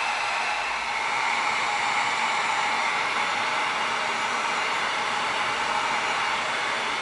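A heat gun blows across EVA foam to seal it for a Z6 riot baton prop, producing a continuous, even, loud airy whoosh with a faint motor hum, close up and without talk.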